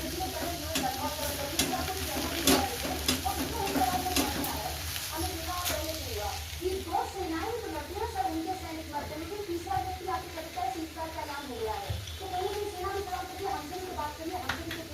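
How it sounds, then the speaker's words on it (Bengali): Roti fries on a hot pan while being pressed down with a cloth, making a continuous close sizzle with soft scraping and pressing sounds, and a voice talks over it throughout. "আমি তো রুটি এরকমভাবে ভাজি।"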